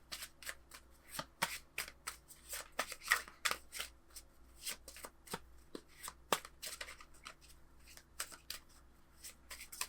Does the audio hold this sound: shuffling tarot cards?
yes